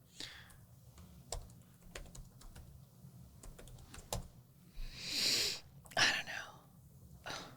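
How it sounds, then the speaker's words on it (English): Password typed on a computer keyboard, a scattered run of sharp key taps at close range, with quiet breathy noises and rustling near the end and a voice speaking nearby. "It's making me type in this password too."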